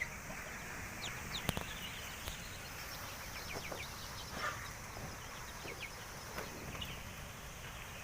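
Chicks on a poultry farm huddle together after a typhoon, giving faint high peeps and soft clucks scattered over quiet background noise.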